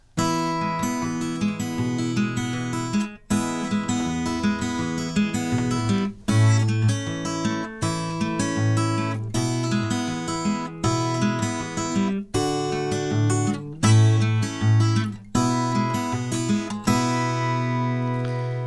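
Fingerpicked guitar plays a steady, rolling pattern of plucked notes over held bass tones, with brief breaks where the strings are pulled, sounding close and clear.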